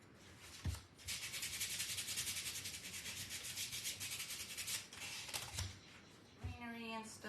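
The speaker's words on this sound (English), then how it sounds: "Come in with our sandpaper and kind of trim it up." Sandpaper scratching back and forth over a craft pumpkin in a quick, steady rhythm, close and fairly quiet, with a few knocks and a brief voice at the end.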